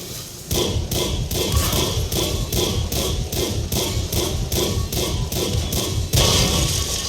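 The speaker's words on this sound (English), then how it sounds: "That was 15 consecutive shots." A Tier 9 WarHammer 40K Orc tank's cannon in the World of Tanks video game fires in a fast, regular string of about fifteen loud, evenly spaced blasts over constant battle noise.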